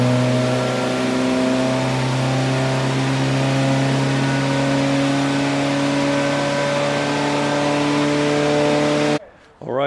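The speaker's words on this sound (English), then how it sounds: "So soon they will do a dyno pull, I think," A Mitsubishi Evo on a dyno holds a loud, steady high-rpm engine drone with strong harmonic tones, sustained for several seconds before cutting off abruptly near the end.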